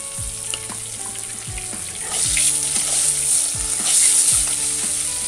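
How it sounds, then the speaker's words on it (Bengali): Long strips of eggplant sizzle and fry in hot oil in a home kitchen, a steady bright crackle with occasional stirring scrapes and thumps of the utensil against the pan, rising a little louder partway through. "তো বেগুনটা আমি লাল করে ভেজে নেব।"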